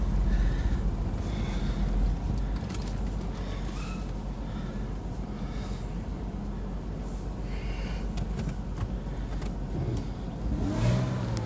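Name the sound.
car engine running while driving after cold start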